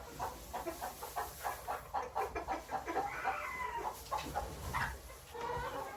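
Chickens clucking inside a hay-lined coop on a small Indiana homestead, with a steady stream of overlapping clucks and calls from several birds, moderately close and fairly quiet over a faint background hum.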